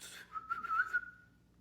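A short run of whistled notes, a quick rising-and-falling trill lasting about a second, then fading out; a person mimicking a catcall-style whistle, no talking.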